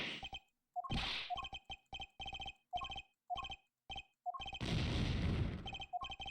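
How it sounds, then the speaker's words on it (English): A gunshot in the Ace Attorney Apollo Justice video game: one sharp burst and a longer noisy blast break through rapid, repeated dialogue text blips. "We hear the gunshot."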